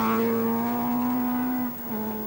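A rally car powering through Kerry Forest on the 1980 Welsh Rally, its engine holding a loud, steady high-revving note that dips briefly near the end before picking up again.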